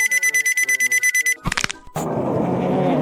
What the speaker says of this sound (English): Your alarm goes off.